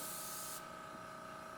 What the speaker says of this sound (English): spray in a cross way, a thin layer